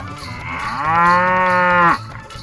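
A cow in a cowshed lets out one long, close, full moo lasting over a second, rising slightly before cutting off, with faint background room noise.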